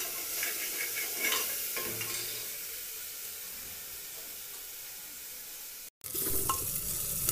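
Spice masala for a potato and soya chunk curry frying in a pan, a close, continuous sizzle and hiss with stirring scrapes, briefly cut off before resuming louder.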